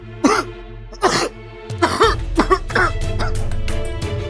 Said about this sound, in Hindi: लड़का खांस रहा, पानी मांग रहा है, सुना मांगे वो पानी मांग रहा है, खांस रहा है